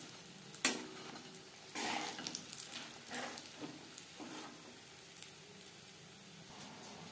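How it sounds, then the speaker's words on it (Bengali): Chicken pieces fry in hot oil for a crispy chicken fry, a soft steady sizzle broken by a sharp utensil clink and several bursts of stirring and turning, fairly quiet and close with no talk. "প্রত্যেক ব্যাচের চিকেন একইভাবে ভেজে নেব।"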